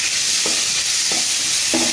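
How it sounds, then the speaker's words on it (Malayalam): Chopped tomato stirred into a hot pan for a Kerala-style squid roast, with a steady bright sizzle throughout and three distinct scraping stirs of a spoon spaced about half a second apart. "ഇനി ഇതിലേക്ക് നമ്മൾ നേരത്തെ കട്ട് ചെയ്ത് വെച്ചിട്ടുള്ള ടൊമാറ്റോ ഇട്ട് കൊടുക്കാം"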